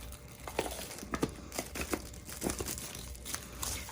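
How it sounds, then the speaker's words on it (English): Saran wrap being stretched over a grinder, crisp plastic crinkling and rustling in repeated bursts, close and moderately loud, with no talking. "I always put a piece of saran wrap."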